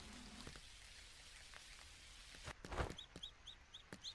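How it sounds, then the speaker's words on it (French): Rain falling in the farming video game Dinkum, a steady soft patter of droplets with a few sharper taps and a brief louder splash, with small chirpy game sounds near the end. "Bon, là il pleut, on a rien à faire pour arroser."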